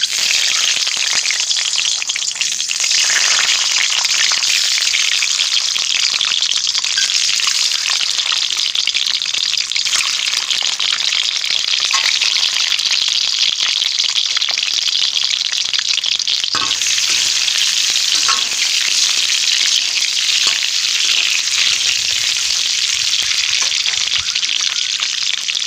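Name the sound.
eggs frying in oil in a kadai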